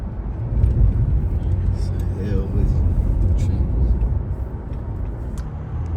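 Steady low road rumble from inside a moving car on the drive back to a store, with constant engine and tire noise throughout.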